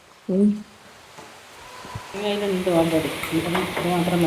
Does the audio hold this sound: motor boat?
no